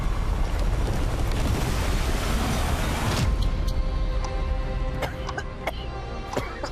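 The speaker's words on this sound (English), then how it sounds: "They're saying a small plane crashed into the North Tower." A small plane crashing into the North Tower erupts as a loud, sustained broadband roar of explosion and debris, then drops after about three seconds into a quieter rumble with scattered sharp cracks and clatter.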